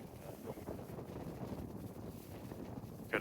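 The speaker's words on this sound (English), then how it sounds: "Got a pretty hard south wind" A hard south wind blows across open Texas public hunting land near a pond in summer, a steady rushing roar buffeting the microphone with no speech.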